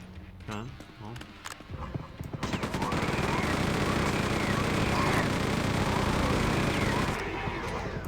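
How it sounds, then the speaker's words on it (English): Rapid chain gun fire in Quake 2, a dense sustained burst that starts after a few scattered shots and roars loud and close for several seconds before easing off, with game effects layered in. "The chain gun won't do it, huh?"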